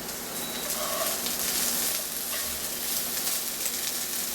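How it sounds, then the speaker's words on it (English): Sliced karela (bitter gourd) and potato cooking in a pan over a low flame, giving a steady, soft sizzle and frying hiss that continues evenly throughout with no voices. "Now I already put it on the low flame and I will cover it and I let it cook for at least 3 to 4 minutes."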